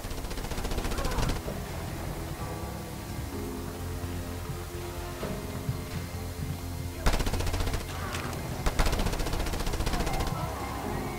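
Rapid automatic gunfire from snipers in Just Cause 2 rattles in dense bursts over a steady game score and ambience, with heavier volleys near the end.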